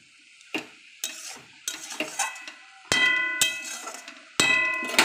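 Cabbage curry stirred in a pan over a high gas flame, with a spoon striking the pan in a series of sharp metallic clangs and scrapes, some ringing on, over a faint sizzle.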